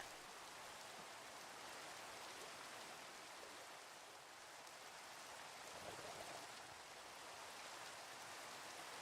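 Steady rain falls in a Minecraft world, a continuous soft hiss heard alone with no voices, even and unbroken throughout.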